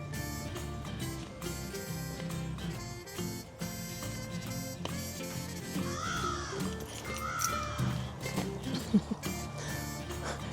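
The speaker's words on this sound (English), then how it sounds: "There's these crows in my yard." Loud crows cawing in a yard with harsh repeated calls over a dense, steady wash of running water noise and clatter, continuing throughout.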